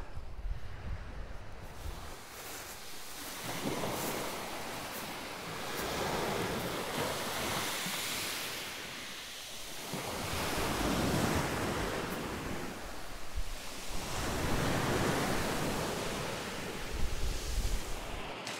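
Waves break and wash in slow, roaring surges on a windy beach on northern Karpathos, loud and close with gusting wind buffeting throughout and no voices.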